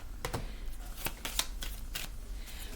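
Tarot cards being shuffled by hand, heard as quiet, irregular riffling and snapping bursts over a soft background hum, with no talking.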